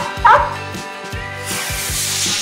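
A robot dog from a children's cartoon gives a short yip, then several stacked electronic bark-like tones and a rising hiss, loud and close.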